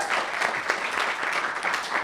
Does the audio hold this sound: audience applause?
yes